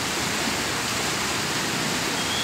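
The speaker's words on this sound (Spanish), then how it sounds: "porque se desbordó esta quebrada." An overflowing creek in Bogotá, normally dry, rushes over a paved roadside after heavy rain: a loud, continuous, even roar of water with no pauses and no voices.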